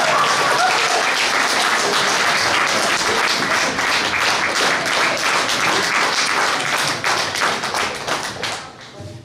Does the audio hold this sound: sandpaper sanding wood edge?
no